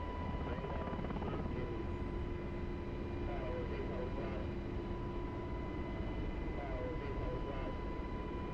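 Rotor and turbine drone of a Cobra or Apache attack helicopter running at redline in a flight combat game, steady and loud throughout, with faint talk underneath.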